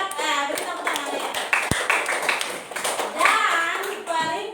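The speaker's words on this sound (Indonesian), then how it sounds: "Silakan beri tepuk tangan ya" Schoolchildren in an Indonesian classroom clap their hands in a short round of applause while a teacher keeps talking over it.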